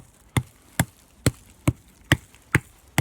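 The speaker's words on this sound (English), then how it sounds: "this whole area here where I'm hitting sounds pretty hollow" Seven evenly spaced, sharp knocks on a hollow aspen trunk, each a dull thump at roughly half-second intervals, close and fairly quiet with no talk.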